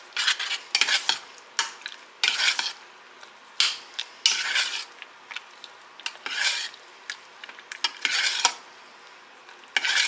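A utensil repeatedly stirs and scrapes through homemade stovetop mac and cheese in a pot, making bursts of thick, wet scraping in an irregular rhythm, close and moderately loud, with brief pauses between strokes.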